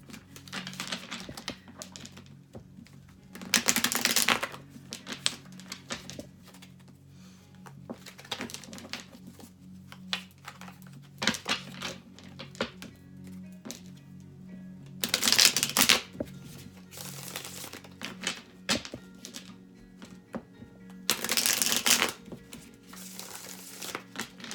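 Tarot cards being shuffled in several short riffled bursts, separated by quieter pauses with soft handling noises, close up.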